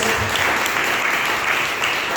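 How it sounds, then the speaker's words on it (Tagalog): Loud, dense applause fills a church worship service, a congregation clapping steadily and evenly throughout, close and sustained with little else audible. "malakas na palakpak muna sa ating Panginoon Diyos"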